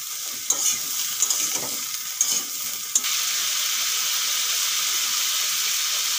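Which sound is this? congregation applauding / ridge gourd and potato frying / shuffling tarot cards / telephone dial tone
ridge gourd and potato frying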